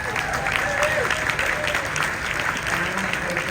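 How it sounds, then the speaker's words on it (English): A room of dinner guests applauds honorees at a formal banquet, dense steady clapping close by with some voices mixed in throughout. "I also want to give all of our honorees one more round of applause"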